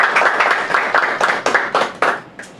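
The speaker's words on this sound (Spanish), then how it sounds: "Vamos a recibirlo con un fuerte aplauso." A small audience at a Christian-versus-atheist debate claps in welcome, the close hand claps coming in uneven bursts that thin out toward the end.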